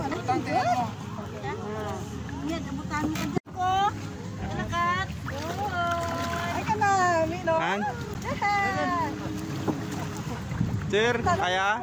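A small outrigger boat motoring across the sea toward Isla Bali, Guimaras, with steady engine and wind rumble throughout while people talk over it.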